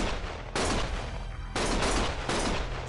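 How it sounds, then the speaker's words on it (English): Gunfire in the Lost Judgment video game comes as dense, loud bursts of rapid shots that fill the whole stretch, with brief shifts in intensity between volleys. "Stop shooting!"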